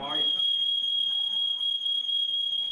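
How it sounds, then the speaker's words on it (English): A shrill, continuous electronic fire alarm tone rings steadily throughout in a hotel suite, with a brief rustle at the start and a faint voice murmuring underneath. "Yes, that is a fire alarm, and Uga doesn't like it one bit."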